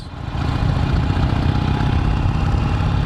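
A Harley motorcycle engine idles close by, a loud, steady low rumble with an uneven lumpy pulse that holds constant throughout.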